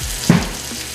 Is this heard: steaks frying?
yes